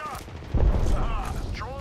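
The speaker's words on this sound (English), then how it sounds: "Throwing thermite grenade." A thermite grenade detonates and burns in Apex Legends, landing as a sudden low boom midway and fading into a fiery roar. Game voices and effects sound faintly around it.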